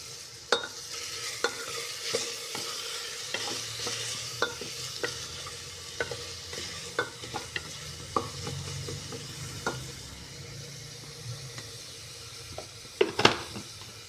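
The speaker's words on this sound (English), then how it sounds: "frying is done" Oil sizzles steadily in a pan while cooking egg rice, a utensil scraping and clinking against the pan in irregular strokes, close up, with no talking.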